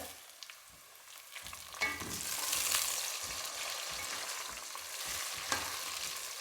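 Soft sizzling of tomato and garlic frying in oil with faint stirring and scraping, fairly quiet and continuous.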